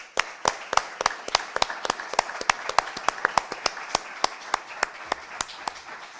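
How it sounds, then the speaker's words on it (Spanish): Applause from a seated audience after a conference talk on the Jesuit missions. A few loud individual claps stand out from a thinner spread of clapping in the room. The clapping tapers off near the end. "Le brindamos un aplauso."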